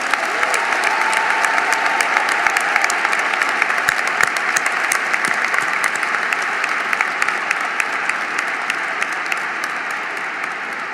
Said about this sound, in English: let's give them the biggest round of applause that they're here today